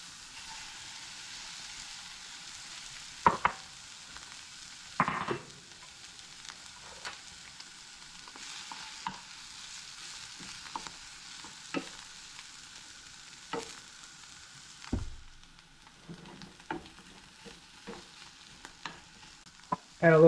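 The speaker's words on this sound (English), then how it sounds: "Now we're going to add our egg." An egg fries in a pan with potatoes, garlic and ham, a faint continuous sizzle broken by scattered sharp scrapes and clicks of stirring over about twenty seconds.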